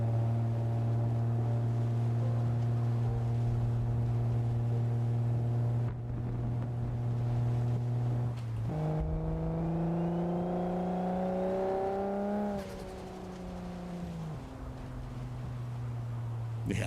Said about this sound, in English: Hear the turbos pull up in a second.